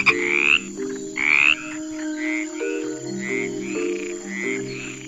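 Poison dart frog in the Amazon rainforest, heard as a run of loud, repeated croaking calls over a steady chorus of other frogs and insects.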